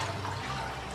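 Brief splashing of water as oil cleanser is rinsed off a face, a soft close wash of liquid lasting under a second.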